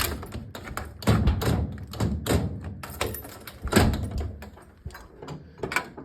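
The bottom compartment door of a KAER gun safe is worked open, giving a series of close metallic thumps, taps and clunks with short rattling latch noises spread unevenly across several seconds.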